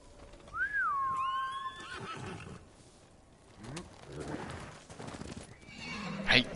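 A horse in the Ghost of Tsushima video game lets out a rising and falling whinny early on, trailing into breathy snorts. Game ambience, hoof clatter and scattered noises follow, growing louder toward the end.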